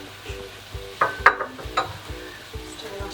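Garlic is stirred in a frying pan with a low sizzle, while a utensil clinks and scrapes against the pan in short knocks.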